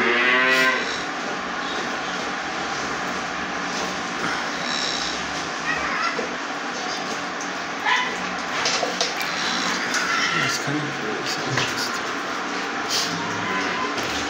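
Cattle on a dairy farm, a loud close moo opening the scene, followed by further lowing and scattered farmyard clatter over steady background noise.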